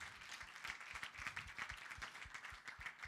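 Faint clapping at a women in sport summit, a sparse scattering of individual claps in an irregular rhythm from a small audience.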